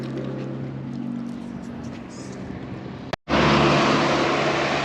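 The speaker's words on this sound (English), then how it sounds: "Don't you love the motorbike, eh?" A motorbike ride: steady engine drone and rushing wind. It cuts out sharply for a moment, then returns louder and brighter with heavier wind noise.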